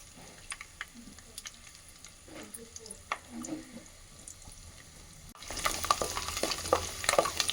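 Dried red chillies and garlic cloves frying for gongura chutney: soft clicks and faint sizzling at first, then a sudden louder crackling sizzle with stirring taps near the end.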